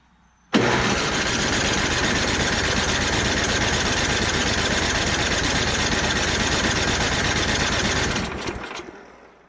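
A small snowblower engine, suspected of a spark issue, sputters to life abruptly and runs at a loud, rough, steady roar for several seconds before winding down.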